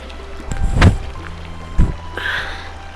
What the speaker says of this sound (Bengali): প্রচণ্ড ঠান্ডা আর হাওয়া দিচ্ছে।